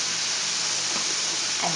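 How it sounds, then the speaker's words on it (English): Food sauteing in olive oil with salt and pepper in a pan, giving a steady, even sizzle close by with no voices. "And now we just saute."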